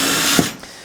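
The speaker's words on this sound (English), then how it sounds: "drilling some holes around the perimeter of this bad boy" A power drill with a countersink bit bores holes around the edge of a DIY triangle volume kit, giving a steady close whir with a brief grinding bite as the bit catches.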